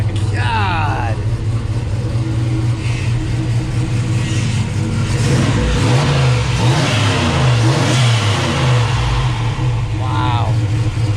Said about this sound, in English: You can hear that turbo big time.